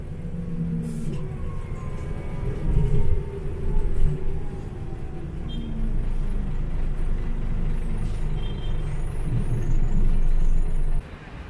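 Ordinary city traffic in central Marrakesh, heard from inside a moving bus: a steady engine rumble and road roar run throughout, with a few hissing air-brake bursts rising above it.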